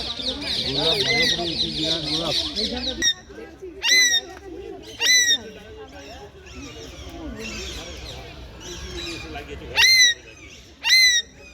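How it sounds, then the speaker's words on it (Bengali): Harsh, shrill calls of a rose-ringed parakeet ring out in short bursts at a deer park, a few loud squawks standing out over a busy background of other birds and a faint voice. "এই যে পাখিটা আছে টিয়া পাখির মতো, এটা হচ্ছে রোজ রিং প্যারাকি।"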